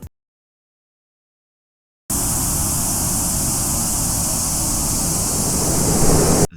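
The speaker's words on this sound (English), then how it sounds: "made a sound effect for the chickens coming over using white noise" Steady white noise used as a sound effect for chickens in a Roblox game, starting abruptly after two seconds of silence and holding a loud, even hiss until it cuts off.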